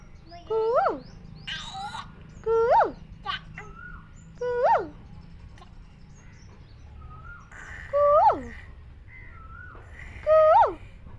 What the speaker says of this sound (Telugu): పక్షులు ఎట్లా అరుస్తున్నాయి? కీచ్ కీచ్ కీచ్ కీచ్ కీచ్ అని.